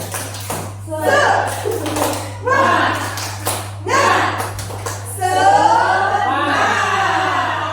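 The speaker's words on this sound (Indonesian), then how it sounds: "Tepuk semangat." A group of teachers at a school workshop performs a rhythmic clapping chant, with bursts of patterned claps mixed with chanted voices and a steady hum beneath.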